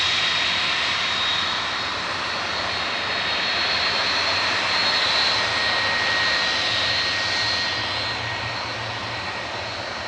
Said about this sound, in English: There we go, he's been given takeoff clearance.